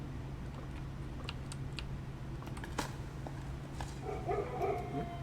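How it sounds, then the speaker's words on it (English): Dog barking in the video game Blue Prince, a few short faint yelps at low level over a steady background hum, with light keyboard-like clicking and no talk. "Why are we barking?"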